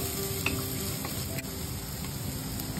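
Chopped onion and garlic sauté in a pan on the stove, a soft continuous sizzle and crackle with a few light stirring scrapes, faint and unaccompanied by talk.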